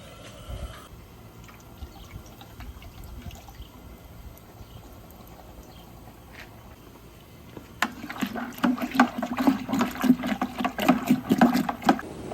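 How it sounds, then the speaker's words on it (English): Granular sugar, about 4 pounds, pours into water in a steady rush of splashing and trickling, fairly close and loud, after a quieter stretch of faint handling noise. "go dump that over here into the water"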